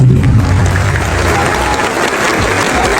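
A crowd at a political speech gives loud, sustained applause that sounds close and dense. Some cheering and crowd voices mix in with the clapping.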